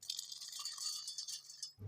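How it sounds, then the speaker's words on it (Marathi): Skinned roasted peanuts tipped into a steel mixer grinder jar, making a quiet continuous dry rattle for under two seconds that ends with a soft thud. "शेंगदाण्यावरचे साल काढून घेतले त्याला मिक्सरच्या भांड्यामध्ये टाकून घेऊ"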